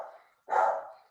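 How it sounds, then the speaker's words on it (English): A dog at home barks during feeding time, a single loud, close bark following a softer whine-like yelp, heard alone with no talk. "my dog is being fed, so he's having a fit"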